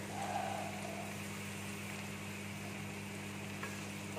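Onions and smoked fish powder sauté in a pan for pancit palabok, with a quiet, steady sizzle and a low hum underneath.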